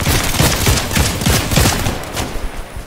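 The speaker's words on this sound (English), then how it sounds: "There's someone shooting there." Rapid bursts of gunfire from another player in an online shooter game crackle continuously and fairly loud, with dense volleys that thin out toward the end.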